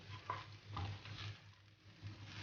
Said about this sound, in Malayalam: 1 മിനിറ്റ് ലോ ഫ്ലെയിമിൽ എല്ലാം ഒന്ന് മിക്സ് ചെയ്യാം.